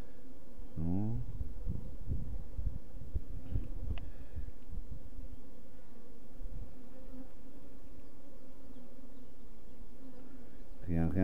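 Honeybees buzz softly and continuously in an open hive, with a steady low drone and a couple of louder individual bees passing close by at the beginning and the end.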